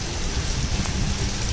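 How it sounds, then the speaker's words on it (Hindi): Heavy rain pours outside and comes in through a window and glass door into a room, a steady, dense hiss of falling water that stays loud and unbroken throughout. "यहाँ तो बारिश बहुत तगड़ी आ रही है यार"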